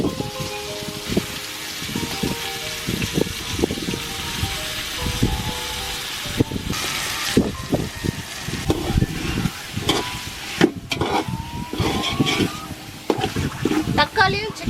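Tomatoes and chicken sizzle in a hot pan for biryani being cooked on a terrace at night, a continuous crackling fry with stirring clatters and scrapes throughout, fairly close.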